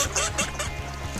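Ducks calling and honking close by on the water in front of a hunting blind on opening day of Missouri duck season, with repeated honks and quacks over a steady low hum.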